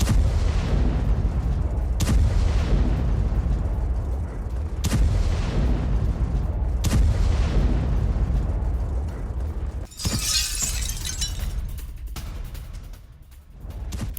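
Russian bombing of Ukrainian military positions in Kherson: several heavy, loud booms land a few seconds apart over a continuous low rumble, with no voices.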